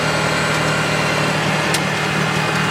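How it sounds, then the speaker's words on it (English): A tractor engine runs at full RPM while pushing heavy wet snow, a loud, steady, unbroken drone throughout with no talking. "Even with the tractor at full RPM, it can't even hardly move the stuff."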